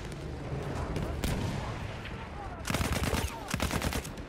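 Battlefield 1 gunfire: dense bursts of rapid machine-gun fire and booming shots, loud and close, with a brief lull before another heavy volley.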